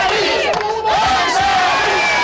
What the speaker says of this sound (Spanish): El público con sus aplausos escogió a la de su simpatía.